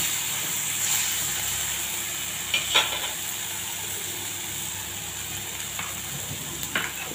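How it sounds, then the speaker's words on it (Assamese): Steady sizzling from a pan of food frying as turmeric is added for a whole moong dal curry, with a few soft clinks of stirring over the continuous hiss. "এইখিনি মোৰ প্ৰায় ভাজি হৈ গ'ল ইয়াতে মই হালধি দি দিলোঁ জোখমতে"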